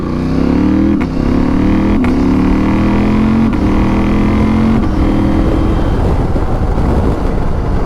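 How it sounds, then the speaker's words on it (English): A Husqvarna Norden 901 motorcycle accelerates hard through its gears on the quick shifter, the loud engine note climbing and then dropping back at each of several quick upshifts, with heavy wind rumble throughout. "we're going to test the quick shifter out now"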